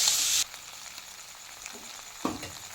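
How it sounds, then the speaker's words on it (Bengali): Potato pieces sautéing with spices, salt and turmeric are stirred in a pan: a short loud sizzle burst at the start, then a quieter steady frying hiss with a soft clunk of the spoon near the end. "সমস্ত মশলার সাথে আলুটা ভালো করে কষানো হয়ে গেছে"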